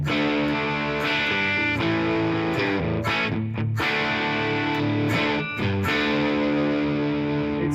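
An electric guitar played through a Marshall JTM 45 amp model, turned up for a driven, distorted tone, strummed chords ringing loud with brief pauses between phrases.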